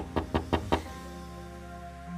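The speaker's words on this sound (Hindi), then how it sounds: "तभी दरवाजे पर आहट हुई" Four firm knocks on a door in quick, even succession, close and clear, followed by a quiet room with a low steady hum.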